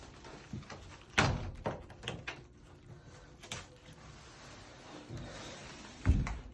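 A sliding closet door panel is lifted and set into its track, giving a couple of sharp thunks and knocks with softer rattles and scrapes in between, close by and fairly quiet, with no talking.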